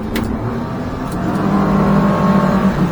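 A Stabicraft 2750 Ultra Centrecab boat powered by twin Yamaha F200 outboards accelerates, its engines droning loud and close with a rising rumble over rushing water noise.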